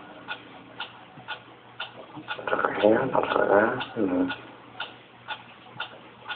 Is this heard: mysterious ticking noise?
yes